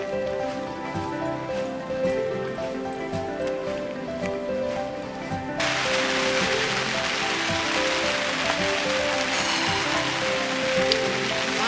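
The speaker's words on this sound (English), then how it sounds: "Rain is just coming down like crazy." Heavy rain pours steadily on the South Downs Way near Winchester, a dense continuous hiss that grows louder partway through, with no voices.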